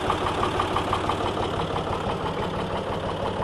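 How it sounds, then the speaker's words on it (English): Small tractor of about 48 horsepower, working with a disc on wet ground, its engine running at a steady low idle-like throb, close and continuous with no talk. "this little tractor, as far as I'm concerned, somewhere around 48 horsepower"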